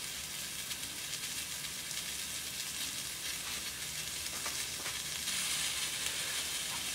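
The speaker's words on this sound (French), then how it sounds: "nous allons cuire le poisson sur un petit lit d'herbes aromatiques" Maigre fish sizzling steadily on a hot plancha over a bed of aromatic herbs, a continuous close frying hiss with faint crackles and no talking.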